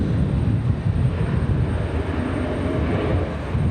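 A departing airliner at Raleigh Durham airport roars with a loud, steady low rumble of jet engines that swells slightly and then eases, with no voices over it.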